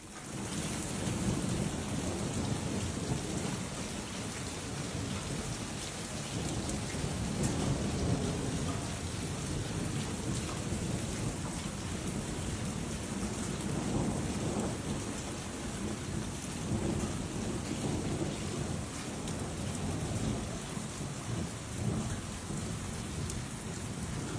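Thunderstorm over Dallas, Texas, with heavy rain pouring steadily at close range and low thunder rumbling beneath it throughout, no voices.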